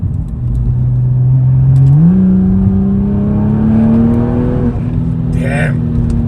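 BMW M135i hot hatch engine pulling hard under acceleration, a loud steady drone rising in pitch through the gears with a shift near two seconds, heard from inside the car while a voice talks over it.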